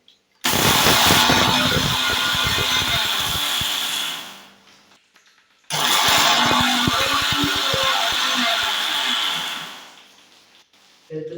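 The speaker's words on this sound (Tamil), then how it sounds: "மிக்ஸி நம்ம ப்ளக் பண்ணியாச்சு." An electric mixer grinder runs in two loud bursts of about four seconds each, whirring and rattling close up, separated by a short pause, with a brief restart at the very end.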